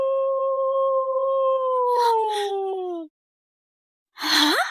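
A wolf howls on a rooftop at midnight, two long sustained tonal howls close and loud for about three seconds with brief breathy noise bursts, then silence before a rising whining howl returns with rough noise.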